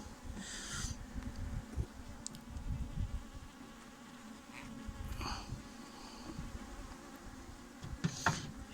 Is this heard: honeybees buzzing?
yes